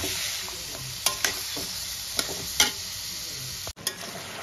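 Chicken with prawn paste is sautéed in a pan, making a soft continuous frying hiss broken by a few sharp spatula clicks and scrapes against the metal.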